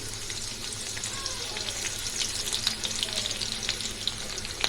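Spices and garlic tempering in two ladles of hot oil in a kadhai sizzle and crackle, a continuous bright frying hiss with small pops scattered throughout.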